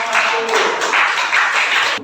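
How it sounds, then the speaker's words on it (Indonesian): A class claps for a student group: a short burst of dense, fairly close applause lasting about two seconds, with some voices underneath. "Ya, berikan tepuk tangan untuk kelompok"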